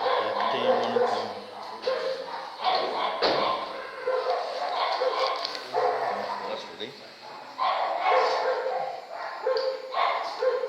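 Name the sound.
dogs barking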